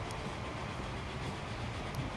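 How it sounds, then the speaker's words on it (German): A freight train rumbles past with steady low clatter, faint and distant, in the Transport Fever railway-building game; no one speaks. "da unten kommt natürlich auch gerade der Güterzug"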